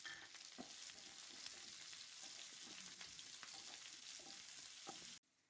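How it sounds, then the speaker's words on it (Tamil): Two large onions sauté in hot oil in a kadai, giving a continuous close sizzle with soft scraping stirs and occasional light taps, then cutting off sharply at the end. "இதை இதில் சேர்த்துட்டு வதக்கிடலாம்."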